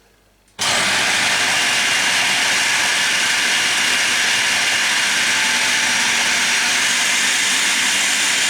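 A kitchen blender whizzes chopped sweet chilli jam ingredients, starting abruptly after a brief quiet moment and then running as a loud, steady, continuous whir to the end.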